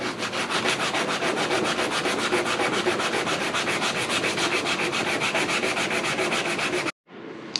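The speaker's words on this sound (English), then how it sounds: "we'll keep sanding back here" Steady, rhythmic back-and-forth sanding scrapes against the bodywork of an Infiniti G35 car, fast and close, continuing without pause before stopping abruptly near the end.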